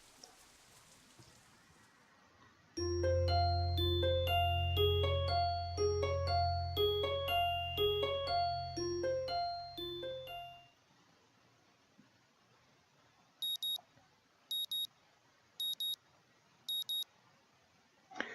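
An alarm clock in the video game Katawa Shoujo rings a repeating electronic melody over a low hum for several seconds and then stops abruptly. Four short, high beeps follow against a faint background hiss.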